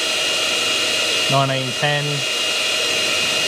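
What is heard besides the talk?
hair dryer running on full heat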